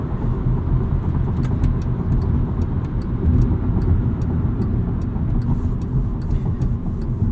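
A 2016 Volkswagen Jetta 1.4-liter turbo drives along, its steady engine drone and road rumble heard from inside the cabin, continuous and fairly loud with no talking.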